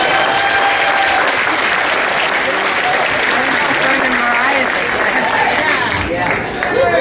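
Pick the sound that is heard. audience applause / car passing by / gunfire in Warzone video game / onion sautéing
audience applause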